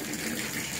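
Water runs steadily from a newly installed Delta B112900 temperature-control shower valve, a close, continuous rushing flow with no talk.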